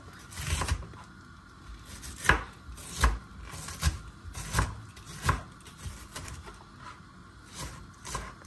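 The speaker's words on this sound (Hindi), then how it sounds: "बारीक चॉप करून घेया ऑनियन." An onion is finely chopped with a knife on a board: a series of crisp, uneven thuds and taps, about a dozen strikes at an irregular rhythm, heard close with no talking.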